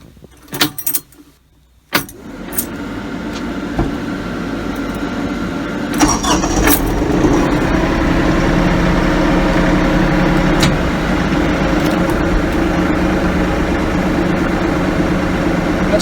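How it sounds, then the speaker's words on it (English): A Kioti CK3510 compact tractor engine cranks over after a few brief clicks, catches, and settles into a steady, loud diesel idle near 1,000 RPM, with a fan or blower running alongside. "let's go ahead and crank it up and see how this thing works"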